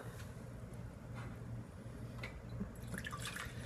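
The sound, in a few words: water being poured into a pot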